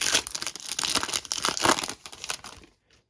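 Foil card packs being torn and crinkled open, 2022-23 Optic basketball blaster packs, a close, busy rustle of ripping wrappers that stops abruptly near the end.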